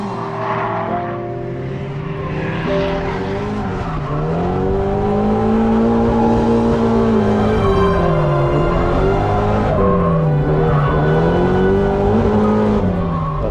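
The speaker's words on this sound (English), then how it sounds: "you come here and this is real drifting. It's accurate, fast and insane." A drift car on a Japanese drift track, its engine roaring loud and close with rising and falling revs and sustained tire squeal through long slides.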